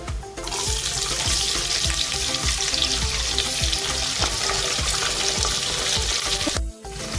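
Chopped onions fry in a hot pan, a loud steady sizzle with rhythmic scraping and stirring clicks throughout, briefly cut off near the end.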